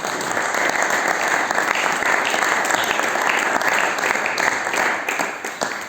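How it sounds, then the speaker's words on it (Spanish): A church congregation gives loud, sustained applause during a sermon on baptism and regeneration, a thick, even roar of clapping from many hands, close and continuous throughout. "Dale un fuerte aplauso a Dios, por favor."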